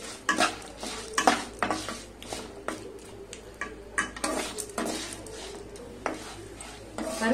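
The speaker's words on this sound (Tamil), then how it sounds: "சேர்த்துட்டு சிம்ல வச்சு நல்லா கிளறி விடுங்க" Cashews, roasted chana dal and peanuts being stirred in a pan over low heat, a quick irregular run of dry rattling scrapes and ladle clinks against metal with a faint sizzle beneath.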